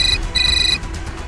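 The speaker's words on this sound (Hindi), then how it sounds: "फिर मैंने वेदिका के फोन से दुष्यंत को फोन किया" Electronic phone ringtone trilling in two clear bursts, loud and close over low room rumble, with no talking.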